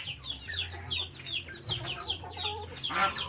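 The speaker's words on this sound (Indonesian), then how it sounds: "Lagi berkokok dia, mantap." Free-range village chickens in a modified coop, with a rooster crowing among repeated clucks and cackles from the flock, close and fairly loud over a low steady hum.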